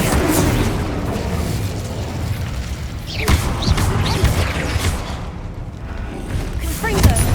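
Incendio fire spells are cast during combat in Hogwarts Legacy, bursting with whooshing blasts and heavy booms, two sharp impacts standing out over continuous crackling battle noise.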